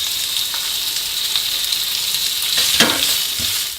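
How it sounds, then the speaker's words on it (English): Thin slices of guanciale frying in a pan give off a steady, close sizzle, with a few spatula scrapes and taps near the end and no voices. "We put the thinner slices of guanciale in a pan and we're going to cook them for a few minutes."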